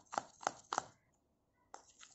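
Several sharp, close taps and scrapes of a spoon in a small bowl as gram flour is mixed with milk cream for a face pack, three quick strokes, a pause, then two more, with no voices.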